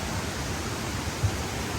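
Steady broadband rush of flowing water beside a hiking trail, a continuous even hiss close by with no talking over it.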